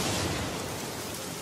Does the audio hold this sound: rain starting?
yes